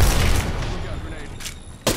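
A grenade explosion and gunfire in the video game Apex Legends burst loudly at the start and again near the end, with a rumbling decay between.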